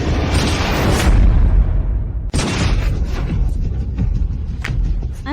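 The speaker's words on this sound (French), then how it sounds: "Un tir, c'est le son d'un tir." Gunfire in a staged confrontation scene: two sharp, loud blasts roughly a second apart, each with a long booming decay, close and dominant with no voices.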